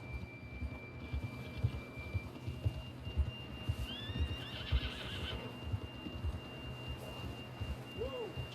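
A horse in Red Dead Redemption II neighs midway through a rising, wavering whinny, over a steady low bed of hoofbeats, ambient game noise and a faint sustained tone.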